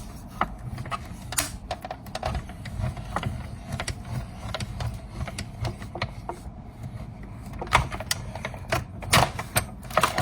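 A die-cutting machine cranking card stock through for a fold-back card, giving irregular clicks, clunks and ratcheting knocks over a low mechanical rumble, close and moderately loud throughout.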